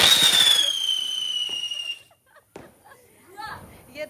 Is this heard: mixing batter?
no